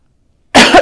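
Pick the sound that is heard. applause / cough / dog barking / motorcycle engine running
cough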